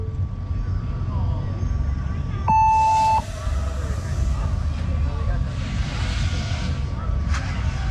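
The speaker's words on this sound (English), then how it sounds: "All right, listen to the timer." Electronic race start timer at a drone racing event beeps in a short sequence: a steady tone, then a brief higher beep and a longer held beep, loud over continuous motor whine and background crowd noise.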